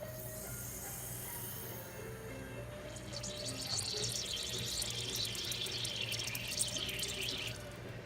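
Water dripping and trickling from the connection of a Frigidaire portable dishwasher, faint at first and then a busier spattering patter over a low steady appliance hum, no talking.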